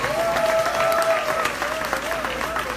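A live audience at a show in West Palm Beach, Florida claps steadily and continuously, dense applause filling the space with a voice rising over it.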